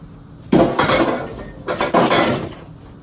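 A caramel-coated flan baking dish set down into a kitchen sink, giving two loud clattering clunks of dish against metal and other dishes about a second apart, each ringing briefly.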